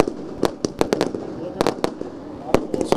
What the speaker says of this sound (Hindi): सुंदर भव्य आतिशबाजी